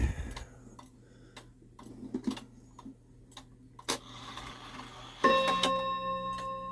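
A Shanghai 555 mechanical clock ticks steadily in a quiet room, sharp evenly spaced clicks, followed near the end by a ringing bell chime that lingers.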